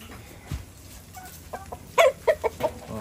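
Several short clucks from Rhode Island Red chickens, a rooster and two hens, in a quick irregular cluster, fairly close, over a faint background hum.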